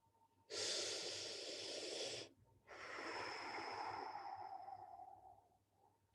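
Two long, loud breaths close to the mic: a harsh inhale followed after a short pause by a longer, wheezy exhale that fades out.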